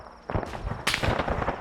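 A grenade explodes in the ARMA 3 military shooter game, a sharp close blast around the one-second mark preceded by a smaller crack, with scattered impact noise following.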